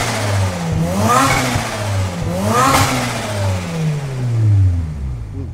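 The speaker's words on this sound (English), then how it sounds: "Couple of revs." A heavily modified 1996 BMW Z3 with an aftermarket bonnet is revved twice in quick succession. Each throttle blip climbs sharply, then falls back to a steady idle, close and loud, with no talk over it.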